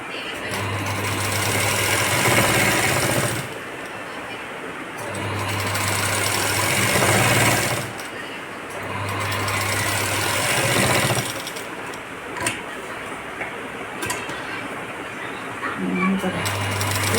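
A sewing machine stitches a patch neck blouse for a Paithani saree in several bursts a few seconds long, its motor humming and needle chattering, with short pauses between runs.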